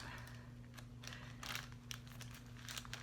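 Plastic wrap crinkles and crackles in short bursts as kitchen scissors open sealed K-pop album packaging, close up against a steady low electrical hum.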